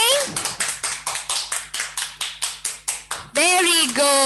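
Kindergarten children clap hands in a steady, even rhythm during an action-words lesson, about a dozen crisp claps close by, after which a voice begins speaking.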